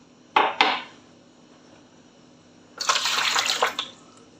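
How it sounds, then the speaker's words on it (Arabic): Two cups of water poured into a bowl for bread dough, each a short splashing gush, the first brief and the second longer and louder, with clinks of the cup against the bowl. "نفضي هنا كوبايتين المية"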